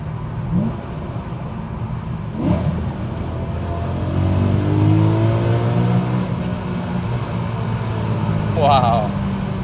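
BMW E9x M3 sedan engine in a tunnel, rising into a loud, sustained rev after a downshift, with a voice speaking briefly over the start.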